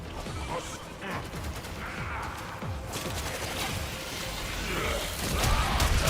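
Turret gunfire in the video game Warframe: dense, overlapping bursts of automatic fire and crashing impacts run continuously at a steady loud level, swelling toward the end.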